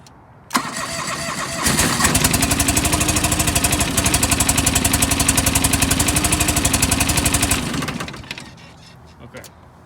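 A John Deere 445 lawn tractor engine cranks and starts, then runs steadily with a loud, even chugging pulse for several seconds before cutting off, following a sharp click at the start.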